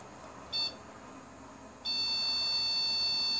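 A short electronic beep from a FlashForge Finder 3D printer during platform leveling, then after a pause a steady, continuous high-pitched beep that holds over faint background hum.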